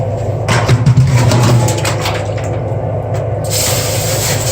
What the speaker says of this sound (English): It's gonna go in the water to quench it off.